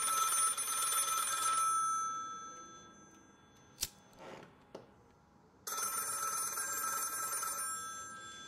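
An old-style telephone bell rings inside a virtual-reality horror game, with a loud ringing burst, a pause with a few sharp clicks, then the ring resuming strongly.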